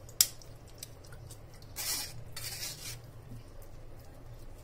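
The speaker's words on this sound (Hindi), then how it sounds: "इसको ऐसे करके पलट पलट के इसे धो लेंगे" Homemade paneer washed by hand in water: a few soft splashing and squishing bursts, fairly quiet and close, over a low steady background hum, with no talking.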